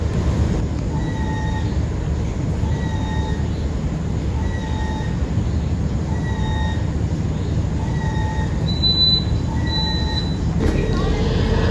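Passenger train on an additional Yogyakarta–Jakarta run, a new luxury trainset travelling at speed, heard from inside as a loud, steady rumble of wheels on rail with repeated high wheel squeals ringing over the roar.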